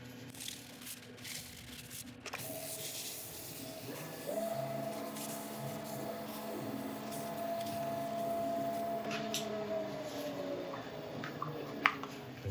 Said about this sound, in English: We're going to cut back the surface, make it even smoother with an abrasive paste.